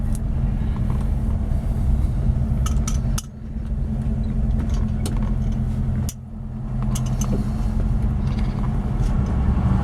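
A heavy 1948 Buick Roadmaster Sedanette with new brakes drives at low speed around the block, its engine humming steadily from inside the cabin with two brief dips as it shifts or slows.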